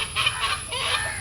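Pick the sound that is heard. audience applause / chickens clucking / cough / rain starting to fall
chickens clucking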